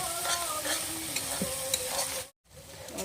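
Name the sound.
stirring and frying spice paste in a pan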